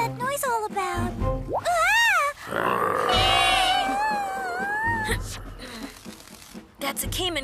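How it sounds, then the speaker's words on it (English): Cartoon caiman crocodile grunting, a series of rough guttural grunts and squealing croaks mixed with an animated character's voice, loud and close. "That's a caiman crocodile, and they're well known for their aggressive behavior."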